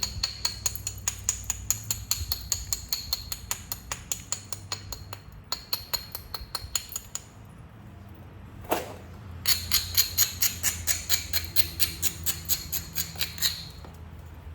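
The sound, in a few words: knapping, striking flakes off wavy pinhead coral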